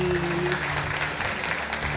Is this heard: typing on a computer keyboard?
no